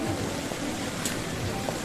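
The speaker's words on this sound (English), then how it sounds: "This rain is so shit." Rain pours steadily onto a busy Tokyo street, a dense, continuous hiss that stays even throughout at moderate loudness, with no talk.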